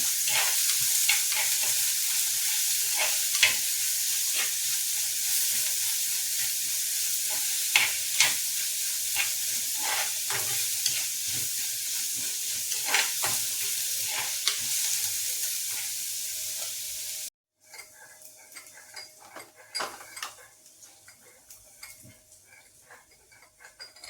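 Onions fry and sizzle in a pan under steady hiss, with repeated scraping stirs and light taps against the pan; the sizzle drops away briefly, then returns quieter with scattered stirring.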